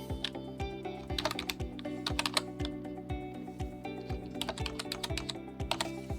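Someone types a password on a computer keyboard, a close, brisk run of clicking keystrokes in an uneven rhythm with brief pauses, no voices.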